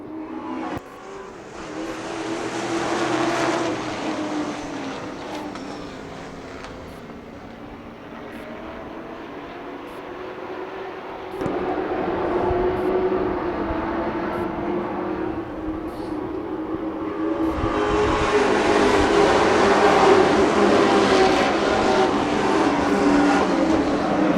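Late model race cars roar off at the green flag of a 40-lap heat race, a loud pack of engines droning and swelling as they pass, with a surge in intensity near the end.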